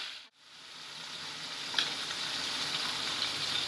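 Mixed vegetables, including cauliflower, frying in a pan with a continuous bright sizzle and hiss that swells slightly after a brief dip at the start and runs on steadily with no talk.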